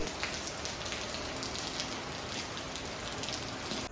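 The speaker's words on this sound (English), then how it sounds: "Now the rain is moderate." Moderate rain during Cyclone Tauktae in Kerala, about two kilometres from the seashore, falling steadily as a dense, even hiss of drops on surfaces without letup or voices.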